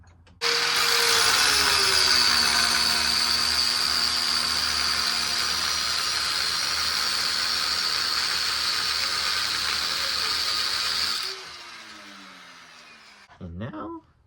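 A metal bolt is cut for a car pedal bracket during a manual pedal install on an H22-swapped CB7, a loud, steady high-pitched power tool whine with grinding hiss running about eleven seconds before winding down, followed by a brief clatter.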